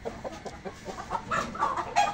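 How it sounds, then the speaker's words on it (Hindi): A large, heavy white rooster clucks in a short series of soft, rising calls, close by and fairly quiet, with no talk over it. "वाइट कलर का माशाल्लाह बहुत प्यारा मुर्गा"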